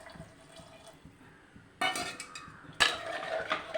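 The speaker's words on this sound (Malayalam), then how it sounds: "നമുക്കിനി ഇതിൻ്റെ കൂടെ ഒരു പാത്രം വെള്ളം, കുറച്ച് ആവശ്യത്തിന് വെള്ളം ഒഴിച്ച് കൊടുക്കാം." Water splashes into a cooking pot of curry in two bursts, each a short loud gush, amid faint clinks of kitchen utensils.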